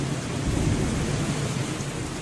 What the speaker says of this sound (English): heavy rains began